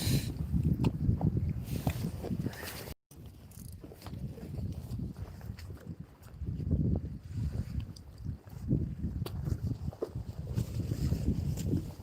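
Gusty wind buffets a microphone while fishing from the pontoons at Valentia, making a loud, rough low rumble that swells and eases throughout, with one brief cut-out and no talk.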